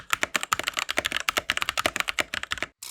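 Rapid clacky keystrokes on a mechanical keyboard, close and crisp, in an uneven but steady rhythm, ending with a brief pause.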